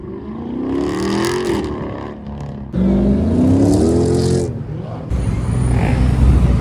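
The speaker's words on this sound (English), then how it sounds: "Oh, we got another Hellcat." A Mopar Dodge Hellcat engine at a busy car meet, loud and close, with deep revving and throttle blips that rise and fall over a constant crowd-and-traffic rumble, plus one fresh surge near the end.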